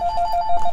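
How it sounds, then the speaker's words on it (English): Phone alert tone: a bright electronic chime pulses repeatedly in a quick, even rhythm, close and clear over faint room noise. "Ding on the phone."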